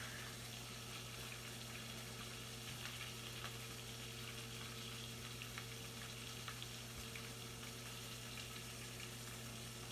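A burger patty sizzles in a pan on a home stove, a steady dense hiss with faint crackles and a low constant hum underneath, continuing without pause or voices.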